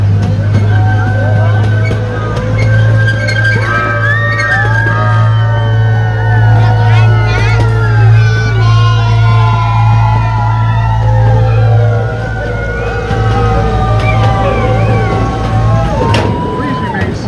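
Riders on the Santa Barbara Zoo train scream and whoop as it enters a tunnel, with many overlapping voices wavering up and down over a steady low rumble of the train.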